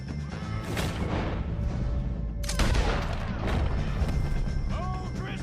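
Gunfire against O'Driscoll gang members in the Red Dead Redemption 2 video game, with rapid overlapping shots, crashes and booms in a dense, loud firefight and no clear voices.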